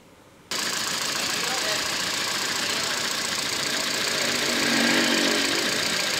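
A Ford Fiesta 1.6 engine idling roughly, kicking in abruptly after a quiet start and then holding a steady, uneven mechanical drone close by, with people talking briefly.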